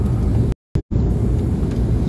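A car passes along a village road in Certeze, Romania, its engine rumbling steadily and fairly close, with a brief dropout in the sound partway through.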